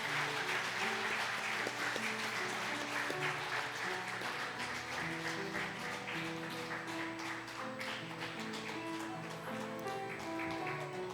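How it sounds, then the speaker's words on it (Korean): A church congregation applauds during an anniversary ordination service for elders, steady sustained clapping throughout while organ or keyboard chords sound underneath. "우리 박수하도록 하겠습니다"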